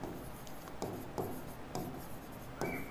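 Marker or chalk scratching on a board during a chemistry lesson, a series of short scraping strokes in irregular rhythm, close and clear with no talking.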